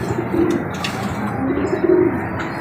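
Soft, low pigeon coos repeat in two short phrases, close by, with faint chirps and light rustling around them.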